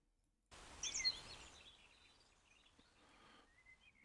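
Pet birds chirping indoors, with faint, high, thin calls and tweets that start abruptly and drift on and off over a low room hush, quiet and somewhat distant.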